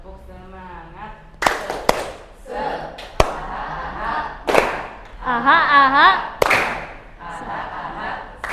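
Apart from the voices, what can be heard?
class doing the 'tepuk semangat' clapping chant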